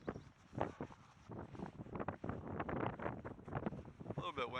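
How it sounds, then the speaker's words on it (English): Wind on a mountain trail along the Appalachian Trail near Skyline Drive buffets the microphone in uneven gusts and rumbles, mixed in with someone talking. "A little bit windy, but not too bad."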